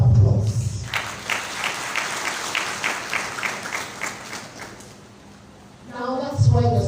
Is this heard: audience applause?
yes